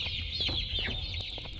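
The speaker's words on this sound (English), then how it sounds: "Come here, chicken." Game chickens from Garten of Ban Ban 2 give rapid, overlapping clucks, clear and close, forming a brief, continuous chatter above a soft low hum.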